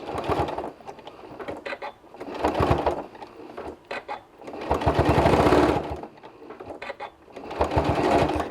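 A sewing machine works through the last side of a fabric ice cream cozy in four short runs with quiet handling pauses between them, sounding near and moderately loud.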